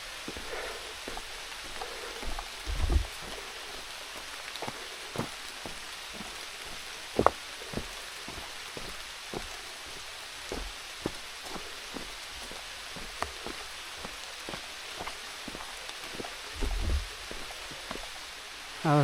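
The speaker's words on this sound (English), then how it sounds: "the rain is picking up" Steady rain falling on a rainy-season mountain hike at Gyeryongsan, a soft continuous patter with occasional louder drips and knocks nearby, faint and alone without talk.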